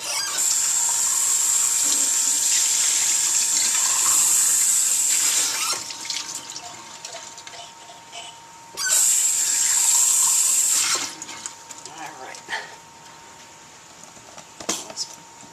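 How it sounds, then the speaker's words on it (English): Water runs from a tap in two steady bursts, splashing as a cup is rinsed, with brief clinks and quiet handling sounds between. "I'll just rinse out the cup this was in."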